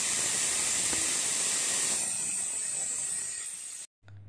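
A pressure cooker cooking horse gram lets out a steady, loud hiss of steam escaping under pressure, holding for several seconds before cutting off abruptly.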